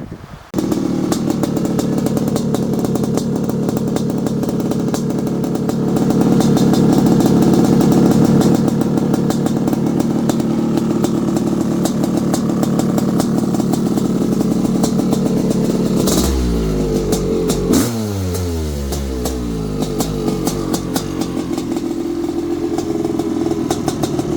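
A Honda CR500AF dirt bike engine runs for a sustained stretch, loud and close, with a steady rough idle that swells slightly in revs before a sharp blip and settling back; no talking.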